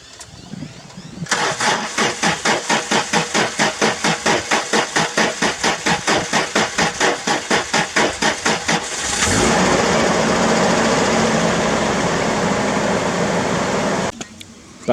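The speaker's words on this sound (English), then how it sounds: "Alright, we're gonna do a cold start." Toyota Hilux cranking on a cold start with a long run of rhythmic starter pulses, then firing up into a loud steady idle, close by, before cutting off near the end.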